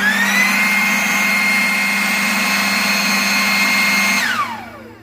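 A Ryobi 40V Gen 3 leaf blower running at normal speed without turbo, a loud steady whirring whine held close for about four seconds before spinning down with a falling pitch.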